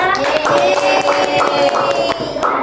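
A classroom of Grade 3 children claps for a student, a loud, brisk burst of many hands that goes on steadily for a few seconds.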